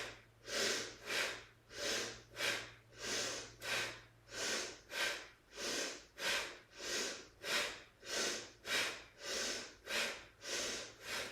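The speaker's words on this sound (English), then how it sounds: "We're gonna do Bhastrika again." Bhastrika yoga breathing: steady, forceful nasal breaths in a regular rhythm, about fifteen sharp rushing pulses, close and moderately loud with no talking.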